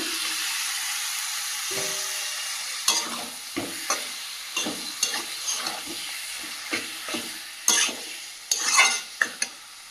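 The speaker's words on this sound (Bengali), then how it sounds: "এই পর্যায়ে ম্যারিনেট করা চিকেনটা দিয়ে দেব" Marinated chicken sizzles and fries in hot spice paste, with a steady hiss broken by repeated clinks and scrapes of a spoon stirring against the pan, close and fairly loud.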